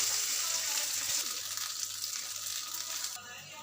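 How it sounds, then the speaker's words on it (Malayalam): Cauliflower pieces deep frying in oil produce a dense, steady sizzling hiss up close, easing slightly toward the end, with no talk. "ബാക്കിയെല്ലാം ഫ്രൈ എടുക്കും ഫ്രൈ ചെയ്തെടുക്കാം"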